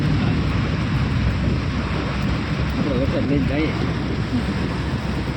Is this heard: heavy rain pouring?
yes